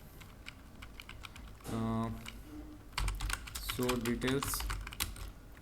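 Code is typed on a computer keyboard as close, crisp, irregular key clicks that run through the clip, interrupted by someone speaking Hindi.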